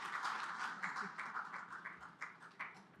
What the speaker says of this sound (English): could we have a round of applause as we welcome Dr. Valerie Hickey?